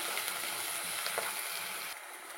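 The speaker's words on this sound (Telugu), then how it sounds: "ఉల్లిపాయలు కొంచెం వేగిన తర్వాత పచ్చిమిర్చి కూడా వేసేసుకున్నానండి." Sliced onions and green chilies sizzle and fry steadily in a pan of hot oil for paneer curry. The crackling hiss is continuous and close, with no voices.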